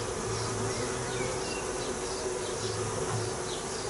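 Swarm of honey bees buzzing over hive frames during an inspection, a dense, steady, fairly faint hum close by with no voices.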